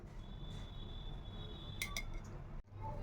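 Metal spoon pressing and scraping sattu flour roasting in ghee in a pan, quiet steady sizzle with a couple of bright metallic clinks and a brief scrape near the end.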